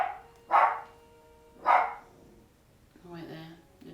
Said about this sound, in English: Wait there, the dog's barking.